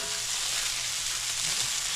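Wild hog meat sizzles loudly and steadily in a hot pan while seasoning is stirred through it, a dense continuous frying hiss with no voices.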